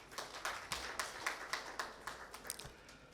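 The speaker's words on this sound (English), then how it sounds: "Let us acknowledge them with a round of applause." A faint, sparse round of clapping from a graduation ceremony audience: distinct, evenly spaced hand claps, a few hands at a time, heard from a distance at low volume.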